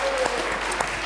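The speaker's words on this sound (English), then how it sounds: "Round of applause for Bishop Ullathorne." A crowd at an outdoor nature festival claps for a school group from Bishop Ullathorne, a brief burst of dense, even applause that fills the whole moment.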